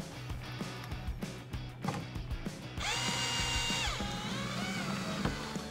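Electric screwdriver backing out a Phillips head screw on the coat hanger panel of a 1979-2019 Mustang interior: a steady motor whine with ratcheting clicks, close and fairly loud, preceded by tapping handling noises.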